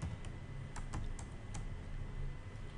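Computer keyboard typing in short irregular bursts of a few sharp clicks, close and fairly quiet over a soft background hum, no talking.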